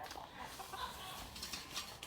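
Faint chicken clucking in a noisy outdoor setting during morning feeding, soft and somewhat distant, partly buried under background hiss.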